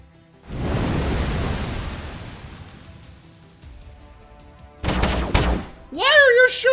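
Rapid bursts of sci-fi gunfire from a ranged unit in Age of Wonders: Planetfall, a sustained noisy barrage followed by a louder, sharper volley and a rising whine near the end.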